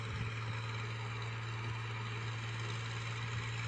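Tractors dumping soil at a plot site beside a main road, a steady low engine drone with constant rumble running throughout, fairly distant and without voices.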